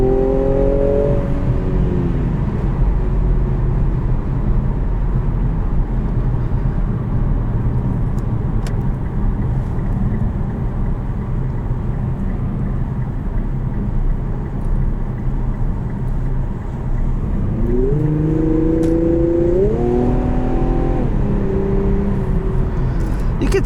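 A 2021 Infiniti Q60S Red Sport 400 engine pulls hard, with stepped rising pitch sweeps from quick shifts at the start and again near the end, over steady road and engine drone throughout, loud and close from inside the car.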